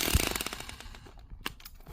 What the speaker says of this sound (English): You have hard ground, this Vevor jackhammer has got you covered.